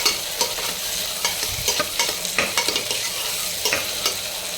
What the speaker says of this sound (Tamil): நெக்ஸ்ட்டு தக்காளியை போட்டுக்கோங்க. இதை நல்லா வதக்கணும்.